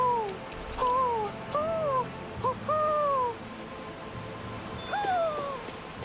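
An owl hoots in a forest in the Tales of Arise video game, giving a series of clear, descending calls in pairs at an even pace over a quiet ambient bed.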